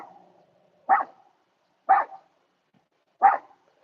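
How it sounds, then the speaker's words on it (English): A dog barks three times, single sharp woofs about a second apart with quiet gaps between, moderately near in a calm indoor setting, no talk. "she's probably barking at a squirrel"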